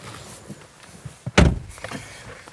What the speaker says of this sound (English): the door shuts with a thunk that you don't normally get from a frameless design of this sort